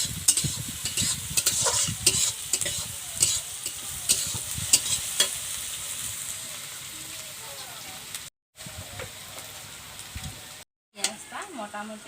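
Onion frying with garam masala in a pan on a village stove, a continuous sizzle with repeated scraping stirs and clinks, close and fairly loud, easing off near the end with two brief silent gaps.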